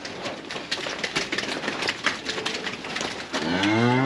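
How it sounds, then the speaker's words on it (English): Cattle being weighed and moved through a crush on a farm, with a loud, close moo rising near the end over a busy background of clatter and shuffling. "Cows."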